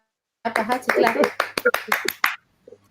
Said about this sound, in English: I had to clap for Coach. I had to clap.